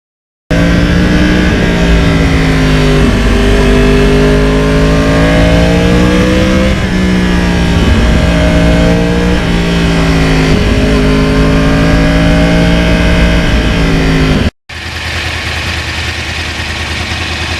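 A 2009 Yamaha R1 crossplane-engine motorcycle revs hard and close, its loud tone rising and falling through repeated throttle sweeps toward 13,700 rpm, then cutting abruptly to a steadier rushing riding noise.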